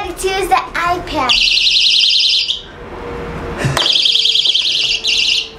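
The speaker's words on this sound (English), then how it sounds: "So if you are being followed or you're being chased or whatever, you can pull this emergency button." Emergency alarm buttons on Japanese randoseru school backpacks emit a loud, piercing, warbling electronic tone in two long bursts separated by a short pause, with children's voices briefly heard before the first.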